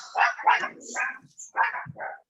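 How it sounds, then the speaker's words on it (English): A dog barks indoors in a close, loud series of about five rough woofs, grouped in two quick bursts with short pauses between. "Sorry about my dog."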